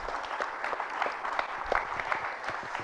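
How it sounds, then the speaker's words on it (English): A room of people at a mobile app marketing event claps for Crowd Compass, a sustained round of dense, evenly spread applause at moderate volume with no voices over it. "Round of applause for Crowd Compass."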